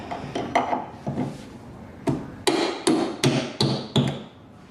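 A hammer taps wood in uneven strikes, then settles into a steady run of five or six sharp, close knocks.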